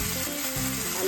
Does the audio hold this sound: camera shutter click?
no